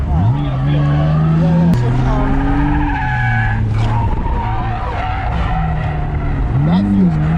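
A BMW E46 wagon drifts on dry pavement, its engine droning loud and close with rising and falling revs and occasional tire squeal, while people talk throughout.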